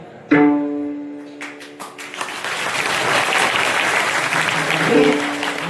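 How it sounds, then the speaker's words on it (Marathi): A sharp tone and a brief voice give way to sustained audience clapping at a kirtan, swelling and holding, a dense wash of many hands. "अहो टाळी वाजवावी गुढी उभारावी"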